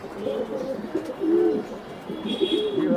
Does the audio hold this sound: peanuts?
no